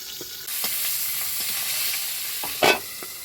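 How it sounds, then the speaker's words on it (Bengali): Fish and pointed gourd frying in oil burst into a sudden loud sizzle that keeps hissing, with sharp spattering pops and one especially strong crackle near the end. "দেখো বাপরে বাবা, কিরকম ফাটছে, না ঢাকলা দিলে এক্ষুনি হাত পা সব পুড়ে যেত।"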